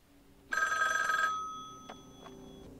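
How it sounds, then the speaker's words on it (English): A telephone bell rings once in a scene from the film The Shining, a loud ringing burst lasting under a second, followed by fainter tones fading out. "He's gonna phone Wendy up in a few minutes to tell her."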